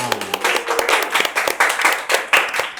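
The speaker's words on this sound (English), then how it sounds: "Let's give yourselves another round of applause." Steady applause from a public speaking competition audience, dense overlapping hand claps continuing without pause, fairly close and loud.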